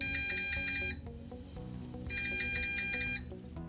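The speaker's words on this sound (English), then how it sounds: "the buzzer will emit a slow beep" An Arduino parking assist buzzer sounds two slow, long electronic beeps about a second each, separated by a short pause, loud and close with no talk.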